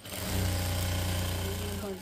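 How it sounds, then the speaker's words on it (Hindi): A sewing machine stitches the last panel of a 24-panel printed lehenga, a loud, steady motor whir running without pause for about two seconds. "लास्ट कड़ी की सिलाई कर दूंगी मैं लास्ट कड़ी की सिलाई"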